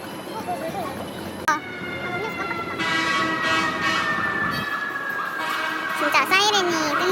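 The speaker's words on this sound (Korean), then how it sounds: "진짜 사이렌이 끊이지 않는다." Emergency sirens wail along a busy New York City street, a rising and falling tone over traffic rumble and a horn blast, with a second siren sweeping in toward the end and the whole scene loud and close.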